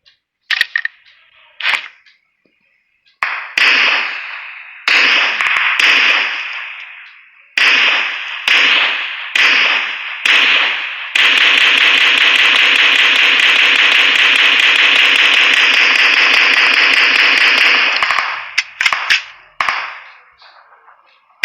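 M416 assault rifle in a video game fired with a compensator: sharp single shots and short bursts, then a long sustained full-auto stream lasting several seconds, loud and close with no talk.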